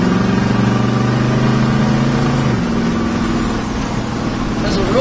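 A 1979 Dodge Lil Red Express pickup truck engine gives a deep, steady rumble with a low droning tone that shifts slightly midway, running continuously throughout.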